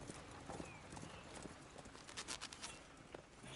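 Hooves of a black horse in Red Dead Redemption 2 clip-clop steadily in a quick, continuous rhythm, moderately close and clear, with a faint snort or whinny.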